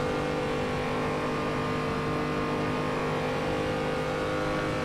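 A car in Assetto Corsa cruises near its 150 mph top speed, engine droning steadily at high revs with a constant tonal whine and no breaks.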